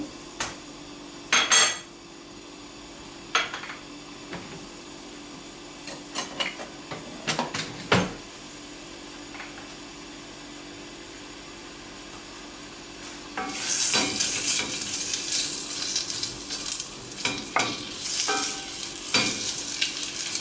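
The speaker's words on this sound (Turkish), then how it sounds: "Soğanımızı atıyoruz." Chopped onions dropped into hot oil in a pot for papara, starting with sparse stirring clinks and scrapes, then a loud steady sizzle of frying that builds in the second half alongside utensil scraping.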